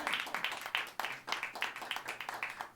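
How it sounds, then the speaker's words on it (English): Audience clapping in a live evening talk-show setting, a steady patter of many hands with rhythmic bursts, fairly soft and continuous with no talk over it. "give me a round of applause, everybody"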